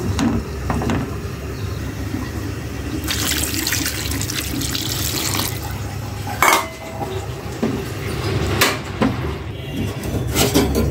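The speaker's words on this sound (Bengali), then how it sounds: "এখন একটু পানি দিয়ে দিব।" Water splashes and trickles into a metal pan amid clattering cookware and clinking utensils, with steady running-water noise throughout.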